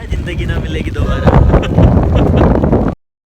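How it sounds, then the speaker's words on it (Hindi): Strong wind roars steadily into the microphone during a monsoon motorcycle ride near Indore, loud and close, and then cuts off abruptly at the end. "ओहो बहुत हवा चल रही है।"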